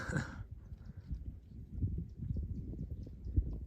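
Heavy hooves of grazing cattle plod along in an uneven rhythm of low, dull thuds, fairly close, on a Sonoran Desert trail in Arizona, after a brief louder burst at the start; no one speaks.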